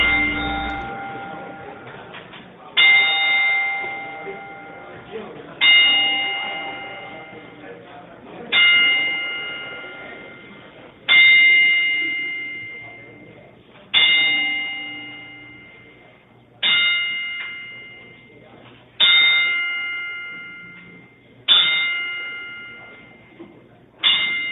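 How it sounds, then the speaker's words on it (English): A single bell struck ten times in a slow, even ceremonial salute, each loud clear strike ringing out and fading before the next, with no talk over the tolls. "we want to have this moment of silence, this 10-bell salute to our fallen comrade, Mario Peralta Sr."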